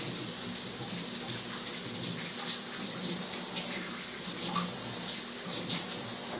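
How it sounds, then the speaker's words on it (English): Hands are washed under a steady stream of running tap water in a kitchen sink, a continuous broadband splashing hiss that holds an even level throughout with no talking. "Washing my hands."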